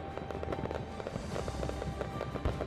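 Fireworks burst over a New Year street celebration beneath the Acropolis in Athens, with a rapid run of sharp pops and crackles and a few deeper booms, close and busy throughout.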